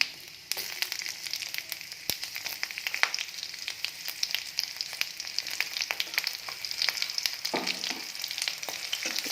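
Cumin seeds fry in hot oil in a home kitchen, crackling and sizzling steadily up close with scattered sharp pops.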